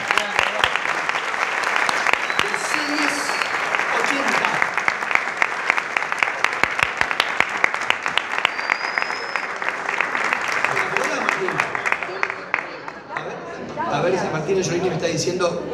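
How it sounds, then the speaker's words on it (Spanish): Audience applause at the 2019 Premios Romeo Gavioli awards ceremony, sustained dense clapping from a large crowd lasting several seconds, with a voice speaking over it near the end. "Aplausos. El señor Roberto Romero"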